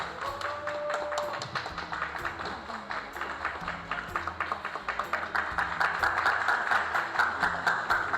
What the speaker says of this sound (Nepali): एकचोटि उहाँको लागि जोड ताली